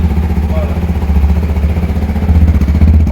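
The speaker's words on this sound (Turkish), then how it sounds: "Abi çift egzoz. Acayip güçlü bir motor, güzel bir motor." Dual-exhaust motorcycle engine running steadily at close range, a low rumbling drone with a faint clattering texture and no pauses.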